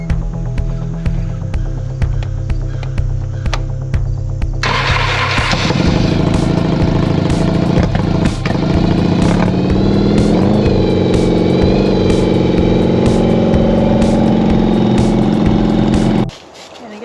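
Motorcycle engine rumbling loud and close, first at a low idle, then revving up and pulling away into a steady cruise on a quiet weekday-morning road, cutting off abruptly near the end.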